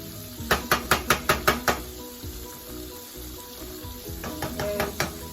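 Fish frying in a pan, a steady hiss of sizzling oil broken by a quick run of sharp utensil taps at the start and another cluster near the end.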